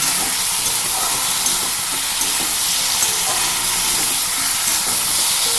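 Spices and pointed gourd fry together in a pan with a loud, steady sizzle and hiss that carries on without a break, no voices over it.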